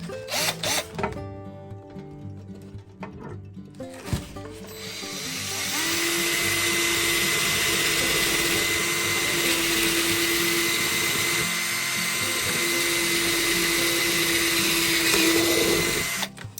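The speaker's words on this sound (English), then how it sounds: "And then we're going to drill" A power drill whines steadily for about ten seconds, high-pitched and close, boring into material after a few short starts.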